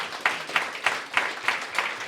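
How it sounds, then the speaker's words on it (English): An on-site audience at a startup pitch showcase applauds the presenters, brisk clapping in a room with rhythmic swells roughly every third of a second. "Let's give a big round of applause to the ones who pitched and the ones who are still coming up."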